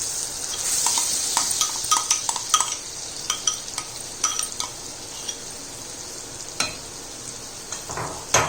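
Lentils fry with a bright, hissing sizzle in a pan, broken by sharp spoon scrapes and metal taps at irregular moments, close up and without voices.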